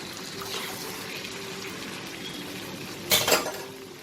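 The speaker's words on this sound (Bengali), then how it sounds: "1 চামচ ঘি দিয়ে দেবো" A spoonful of ghee goes into a pan of Bengali-style mutton kosha, heard as a brief metallic spoon clatter and scrape over a steady low kitchen hiss.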